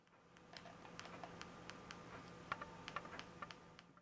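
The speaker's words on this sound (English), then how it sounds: "As you can see, I am typing down the letters with my keypad as we speak." Steady, quiet clicking of keys on a Sony PS3 wireless keypad, the taps coming in an even typing rhythm with a few slightly louder presses near the end, alone with no voices.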